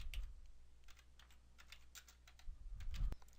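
Quiet, steady clicking of keys on a computer keyboard, a short run of typing heard up close with no voices.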